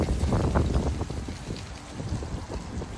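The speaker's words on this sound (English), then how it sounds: "You hear the wind blowing, we feel it." Wind blowing outdoors, a steady broad rushing noise with gusty rumble buffeting the microphone, constant throughout.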